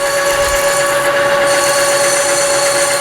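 Lathe parting tool beginning to cut into metal stock, a loud steady high-pitched grinding whine with a continuous tonal ring and no voices.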